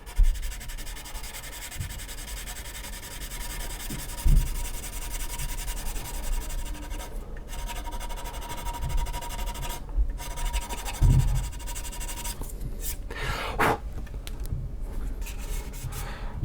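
Plastic on a 1/48 scale ICM Hampden model kit is sanded by hand in close, rhythmic scratchy strokes with short pauses between passes.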